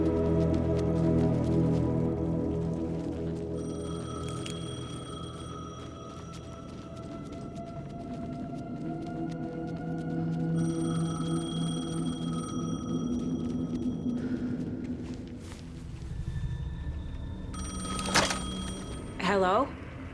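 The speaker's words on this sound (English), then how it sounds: "The payphone was ringing." A ringing payphone in the video game Alan Wake II, sounding in repeated electronic bursts over a dark, droning musical score, with a voice speaking in the scene.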